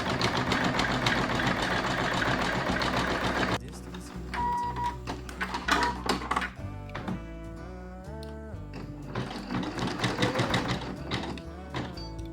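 An embroidery machine stitching after a hoop is set in place, giving a steady mechanical rattle with a quieter pause partway through before the busy stitching resumes.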